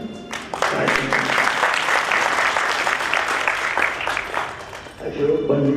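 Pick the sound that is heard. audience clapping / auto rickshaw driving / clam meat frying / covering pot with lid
audience clapping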